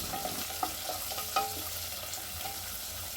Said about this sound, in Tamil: வெங்காயத்தையும் போட்டுட்டு நல்லா வதக்கிக்கலாம்.